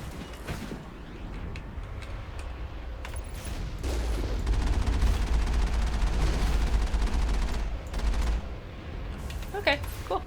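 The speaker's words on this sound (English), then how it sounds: "Turret." Gunfire from a turret in the game Mass Effect, a dense, sustained barrage of rapid shots and clattering mechanical noise that builds louder through the middle and carries on under faint background talk.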